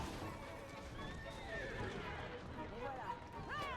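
In a video game, a horse whinnies in rising and falling calls over hoofbeats, with people talking loudly on top.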